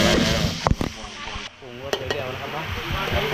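Fish sauce and oil stir-fried in a pan for a crispy fried sea bass dish, with a steady close sizzle and scraping stirs. Someone talks over it throughout.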